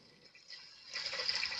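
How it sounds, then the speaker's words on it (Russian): Tap water pours into a pot of beef for slow-braised stew, a soft trickle that swells into a steady, fuller gush of filling liquid over the last half, close and alone. "Просто заливаю водой, пока не покроются все продукты."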